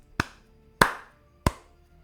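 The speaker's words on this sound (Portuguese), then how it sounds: "É, 3 palmas só." Three sharp, isolated hand claps ring out, evenly spaced about two-thirds of a second apart, each crisp and close with a short decay into quiet.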